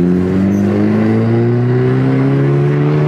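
A Golf 6 TSI with a valved sport exhaust revs up loud and close, its engine note rising steadily in pitch as the throttle is held open, droning and raspy.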